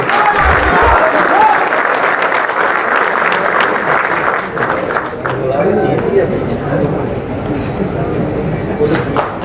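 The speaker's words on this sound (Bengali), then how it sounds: "আপনারা সবাই জোর করে হাততালি দিন" At a prize distribution ceremony for seven clubs in Bengal, an audience claps in sustained, loud applause that carries through the whole stretch, with crowd noise and some voices mixed in.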